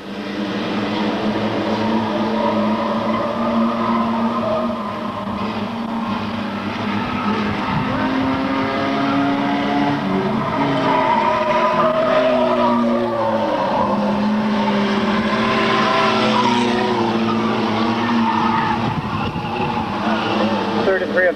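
Several race cars roar around an oval track in a steady, loud engine drone, with pitches rising and falling as the field runs through turn four; an announcer talks over the cars throughout.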